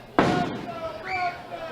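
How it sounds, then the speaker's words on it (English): Fireworks go off around a ballpark during a July 4th baseball game. One sharp, fairly loud bang is followed by a fading crackle and a faint whistle, and a crowd murmurs in the background. "And lots of fireworks around the ballpark tonight, just like we saw last night."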